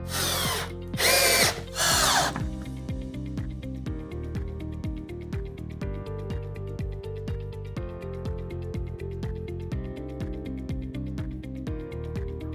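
A power drill fixes a corner strip into a wall while wall panels are installed. Several loud, close bursts open the sequence, then a steadier whirring drone continues with repeated short pulses.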